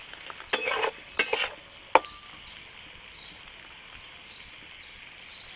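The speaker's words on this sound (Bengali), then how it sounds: "আদা রসুনটা অল্প করে ভেজে নিয়েছি, এর মধ্যে এবার দিয়ে দিচ্ছি চিড়ে রাখা কাঁচা লঙ্কাটা।" Slit green chillies dropped into oil with ginger and garlic, a few loud bursts of crackling spatter and a sharp clink, then quieter intermittent sizzle, no voices.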